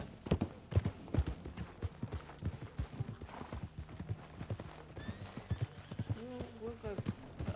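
A horse in an online role-play video game clip-clops in a steady rhythm of hoof beats, close and clear, with a brief whinny near the end and people talking over it.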